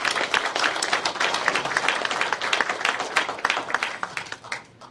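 A congregation claps at a church celebration service for a denomination leader's inauguration, dense crowd applause that holds steady for several seconds before thinning out and fading toward the end.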